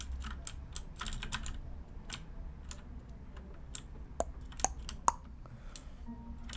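Rapid, irregular clatter of a noisy computer keyboard played during a Minecraft Survival Games session, with dense bursts of clicky keystrokes and a few sharper taps over low background hum.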